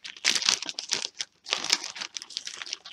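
Frozen cannabis leaves, cut from a fresh plant, being handled and crinkled by hand, dry crackling rustles in two bursts separated by a short pause, close to the listener.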